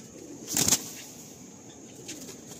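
Madrasi pigeons in a loft give a brief burst of wing flapping followed by faint low cooing against quiet background noise.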